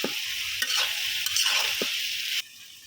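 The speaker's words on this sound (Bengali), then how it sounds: "এখন আবার আমি ভালোভাবে কষাই নিব।" Eggplant curry with tomatoes sautés in a pan with a close, continuous sizzle, broken by repeated scraping strokes of a stirring spoon, and then drops quieter near the end.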